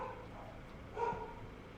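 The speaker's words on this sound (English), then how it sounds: "These dogs haven't barked all day. Now they're barking." A dog gives a short, faint bark or two from somewhere in a quiet room, with low background hum around it.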